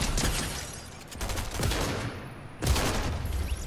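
Shotgun blasts in a video game, three heavy booming shots spaced over a few seconds, each with a rough, rolling tail, loud and close with no talking over them.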